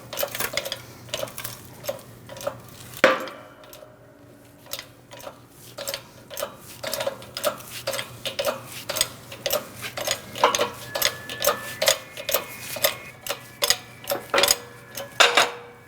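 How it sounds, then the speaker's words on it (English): Press forcing the wheel hub out of the steering knuckle on a 2002-2006 Toyota Camry, a steady run of sharp metallic ticks and clicks, close, with one louder clunk early on and no talking. "You're going to press out the middle first to remove the hub from the knuckle."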